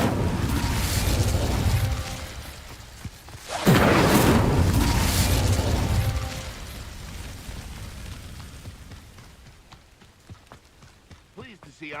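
An Incendio fire spell is cast in Hogwarts Legacy, a sudden loud whooshing burst of flame that roars for a couple of seconds, then fades into softer crackling ambience.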